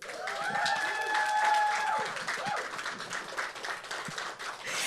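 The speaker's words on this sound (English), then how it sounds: "Can we give up a big round of applause for the ever famous," A party crowd applauds and cheers for a Hawaiian musician at a VIP anniversary party, with a steady roar of clapping and a brief whistle.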